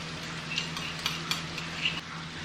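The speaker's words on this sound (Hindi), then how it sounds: "अब जो अदरक लहसुन का पेस्ट मैंने पीसा था वो डाल रही हूँ मैं इसमें।" Homemade ginger garlic paste hits a hot pan for dum aloo, giving a steady close frying sizzle with a few light clinks as it is stirred; no one speaks.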